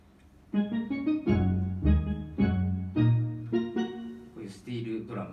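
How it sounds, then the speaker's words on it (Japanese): A steel drum-like pluck patch on a Korg Krome synthesizer plays a short melodic phrase of about a dozen bright, ringing notes, each struck sharply and decaying quickly, clear and alone. "こういうスティールドラムみたいな音だったりとか"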